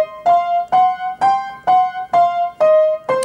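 Boogie piano plays a repeated pattern, a blues scale walking in the bass under a sustained top C, with seven evenly spaced strong chordal attacks ringing loud and close.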